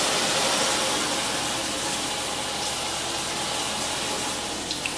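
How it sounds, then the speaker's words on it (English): Water is poured onto uncoated shower glass, a loud, steady broadband splashing hiss that runs evenly throughout with a faint low hum beneath and no talking. "put some water on there"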